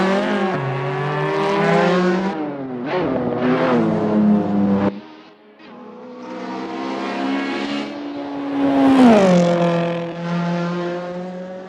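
An Abarth Tiger engine in a video game revs hard and loud, a high whining tone rising through the gears, breaking off briefly before climbing again with another strong surge.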